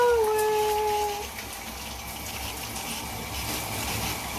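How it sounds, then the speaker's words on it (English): Warm shower water sprays steadily while a parrot is bathed on a new shower perch, a broad hissing wash that stays constant throughout, with a brief whistling tone at the start. "Oh, nice warm shower."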